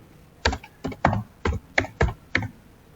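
A computer keyboard tapped in about seven distinct clicks at an uneven, unhurried pace, close and clear with a faint background hiss and no talk.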